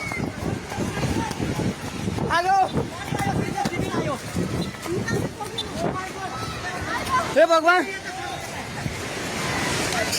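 A flash flood surging in Nepal, with floodwater rolling over stones toward a petrol pump. A continuous roaring rush fills the background while people shout and cry out in panic close by.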